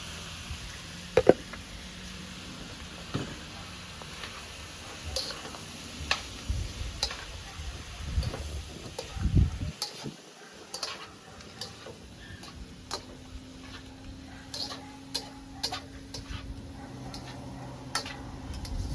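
Vegetable lo mein noodles being stirred with sauce in a pot, heard as quiet, scattered clicks and light scrapes of a utensil against the pot, with no talking.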